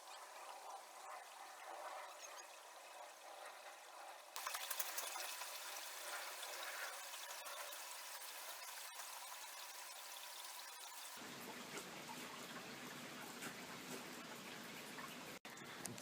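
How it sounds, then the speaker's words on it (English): Rainwater trickles along the ground like a small river, a steady, fairly faint wash of flowing water that continues throughout with no talking. "Oh look, it's like a little river."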